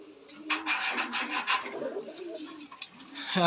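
Fancy pigeons, including white-faced birds, shuffle and rustle in a pigeon loft at a Tangail farm, with soft scraping and faint low coos under a burst of rasping noise.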